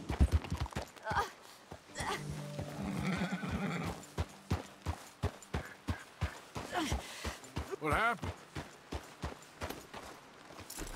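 A horse in Red Dead Redemption 2, collapsed with its rider trapped, whinnies repeatedly amid sharp clip-clop hoof strikes and stamping. Someone speaks briefly between the sounds.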